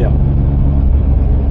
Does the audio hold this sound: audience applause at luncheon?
no